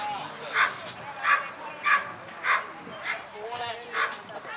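Sled dogs at a race in Heinola bark in a series of about six evenly spaced yelps, moderately close, while a commentator talks over them.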